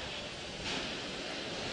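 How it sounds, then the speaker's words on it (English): Water from the sound suppression system rushes across the space shuttle Endeavour's launch pad before the STS-130 liftoff, a steady distant broadband roar like surf that swells slightly midway. "the sound suppression water system has been activated."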